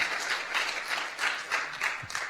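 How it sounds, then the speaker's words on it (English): An audience at a cloud computing idea challenge final gives a startup presenter a burst of applause, steady clapping with rhythmic swells throughout, moderately loud in a hall. "One big round of applause for him."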